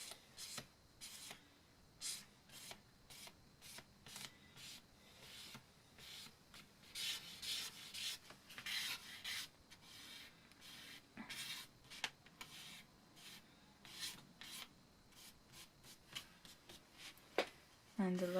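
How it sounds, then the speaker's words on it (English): Pencil or crayon rubbed briskly over drawn lines on paper to make a wood-grain impression for a Cutty Sark craft picture: quick, dry scratchy strokes in irregular bursts, close and fairly quiet, with a faint voice now and then. "I'm going to rub these lines on top anyway, so the detail won't be sharp"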